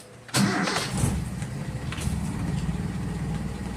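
A carbureted Toyota Kijang Kapsul engine cranks briefly and catches, then settles into a steady, moderately loud idle that runs on without any talking.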